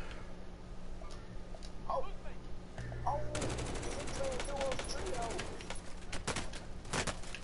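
Automatic and single-shot gunfire in Call of Duty Modern Warfare, a sparse shot or two early, then a dense, loud barrage of rapid cracks from about three seconds on, with a player's voice cutting in now and then.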